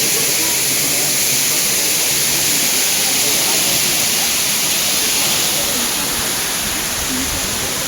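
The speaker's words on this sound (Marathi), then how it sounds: "इकडे छोटासा धबधबा आहे बघा पाणी पडतं आहे" A small waterfall near the Ekvira temple hill pours in a dense, unbroken roar of falling water, loud and close, steady from start to finish.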